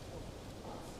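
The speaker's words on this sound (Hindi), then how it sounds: "बारिश भी हो रही है" Rain falling outdoors during an annual day celebration at a plant, a dense, steady hiss and patter that fills the whole moment without a break, with no voices over it.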